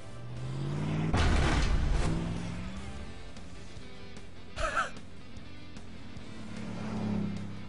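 A car in the game FNAF: Security Breach drives along with a low steady engine drone that swells as it speeds up, a loud breathy gasp near the start, and a short double knock midway.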